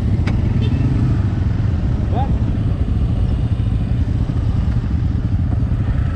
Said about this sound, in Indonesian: Yamaha 75 ya, 2 tak. Naik ke Krakalan sampai puncak Sigemplong kuat.